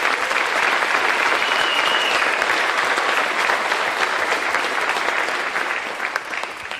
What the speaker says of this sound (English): give them a round of applause again as well